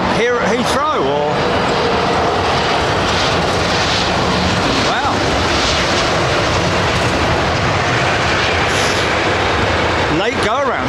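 An airliner makes a late go-around over Heathrow runway 27R. The jet engine roar is loud and close and holds through the whole stretch, with voices talking briefly near the start and the end.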